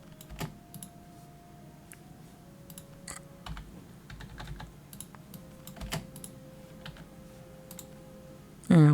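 A computer keyboard and mouse click steadily during a session of the factory-building game Builderment, with close, crisp taps and clicks in irregular bursts over a quiet background.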